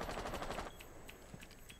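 Rainbow Six Siege gunfire from a competitive esports match opens with a rapid automatic burst, then thins to a few scattered, fainter shots over quiet game ambience.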